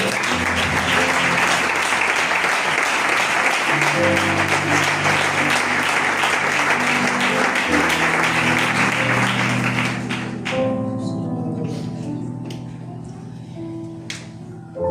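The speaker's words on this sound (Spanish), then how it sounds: "Dale un fuerte aplauso al Señor." A church congregation applauds loudly and continuously, dense clapping filling the room, while music or singing carries underneath and the clapping thins out toward the end.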